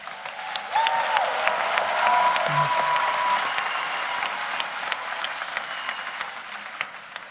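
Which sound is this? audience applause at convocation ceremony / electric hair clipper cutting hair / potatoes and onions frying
audience applause at convocation ceremony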